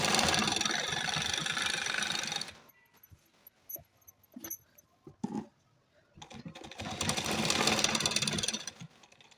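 A sewing machine stitching a salwar runs in a fast, steady mechanical whir, then stops for scattered clicks and handling taps, then starts stitching again near the end.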